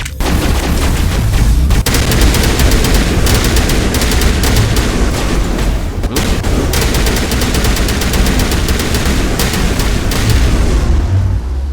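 Sustained, loud automatic gunfire in the Mass Effect video game, dense rapid bursts with hardly a pause and a brief break near the two-second mark.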